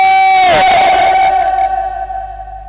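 A crowd at a Bengali religious gathering roars a loud sustained takbir chant in unison, a massed battle-cry shout that swells at once and then tails off slowly.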